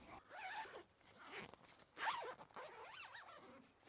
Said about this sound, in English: get the mesh and we'll zip it back up